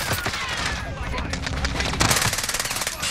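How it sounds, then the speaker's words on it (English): Rapid automatic gunfire in Call of Duty Warzone on Rebirth Island, a dense, loud burst of close shots that continues steadily throughout, with a player's voice speaking over the shooting. "Oh! I am under fire."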